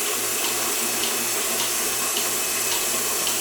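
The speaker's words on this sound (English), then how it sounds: "Now we're just rinsing." Water rinsing through a Capralite milking machine, a loud, steady close-up rush of flowing water with a faint rhythmic low pulsing beneath it, no talk.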